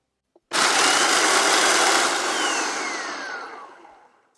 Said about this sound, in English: So I'm going to process them until the crackers turn into fine crumbs.